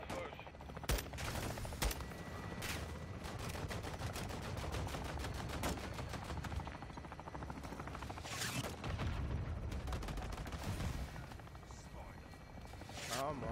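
Chopper gunner fire from a helicopter in Modern Warfare 2: sustained rapid machine-gun bursts and booming impacts over a steady rotor drone, dense and continuous throughout, with voices talking over the combat.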